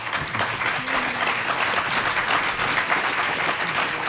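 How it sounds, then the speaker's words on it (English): Audience applause for a panel at a human rights and climate justice talk in a university ballroom, steady dense clapping throughout at a consistent loud level, with no voices over it. "Let's have applause for the panel."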